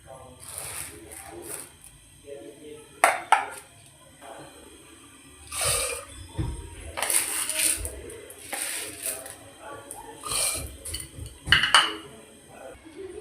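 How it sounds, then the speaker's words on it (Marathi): Dal is tipped into a pressure cooker in a home kitchen, with a series of clinks and metallic knocks from the pot and spoon, interspersed between stretches of someone talking. "आता मी कुकरमध्ये डाळ टाकते"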